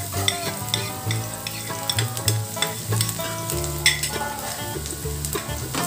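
Chopped onion frying in oil in a wok for Bengali egg tadka, with loud, close sizzling and repeated scraping stirs across the pan, no talk.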